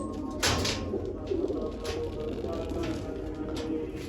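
Soft pigeon coos murmur low in a pigeon loft, repeated gently under a steady background hiss with a few brief louder rustles and knocks.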